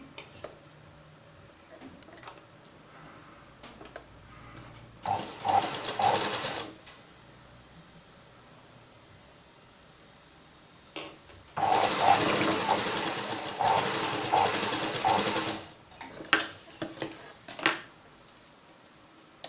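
A sewing machine stitches a half-inch tuck at the shoulder of a plain blouse, running in two bursts, a short one and then a longer steady run, with quiet pauses between and no talking.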